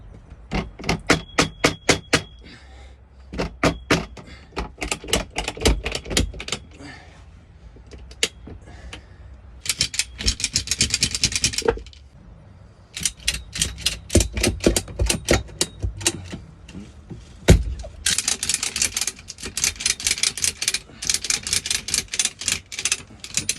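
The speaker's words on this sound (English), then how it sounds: "I'm just going through and putting some screws in." Screws being driven into a wood roof panel built inside a car, heard as loud, close bursts of rapid rattling clicks in several runs separated by short pauses, with no talking.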